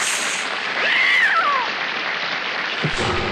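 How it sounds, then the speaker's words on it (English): A cat in the 1987 animated Phantom of the Opera film, walking the opera house catwalk, lets out one drawn-out, rising-then-falling meow over a steady hissing background. "There's this opera house cat that's walking around on the catwalk."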